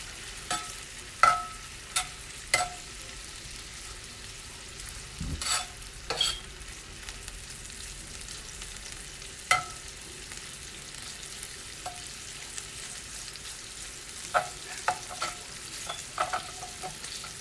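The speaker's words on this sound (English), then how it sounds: "So I'm gonna let that cook in there. So I do want it crispy." An Italian frittata frying crisp in a pan gives a faint steady sizzle, broken by scattered sharp clicks and knocks of a utensil against the pan.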